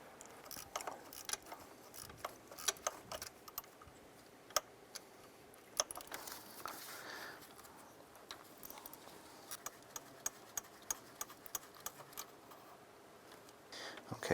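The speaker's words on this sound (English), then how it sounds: "remove these two bolts from the EGR tube" An 8mm socket ratchets EGR tube bolts loose on a 2005-2010 Jeep Grand Cherokee, faint quick clicking ticks and light metallic taps in irregular bursts, close by, with no talk.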